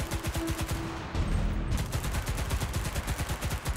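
Rapid bursts of automatic gunfire from a shooting video game fill the whole stretch, dense repeated shots with heavy recoil-like thumps and a short lull in the middle before the firing resumes.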